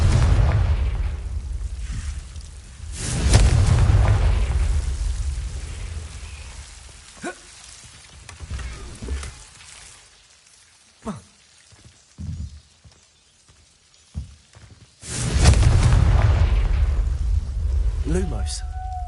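A Confringo fire spell from Hogwarts Legacy bursts loudly in two broad, roaring blasts, one near the start and one near the end, with a quieter stretch of scattered crackles and small pops between them. No one speaks.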